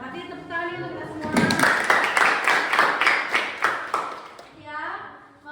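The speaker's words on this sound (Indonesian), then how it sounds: "Berarti tepuk tangan untuk kita semua." A classroom of students claps in a quick burst of rhythmic applause, fairly close and loud, with children's voices chattering before and after.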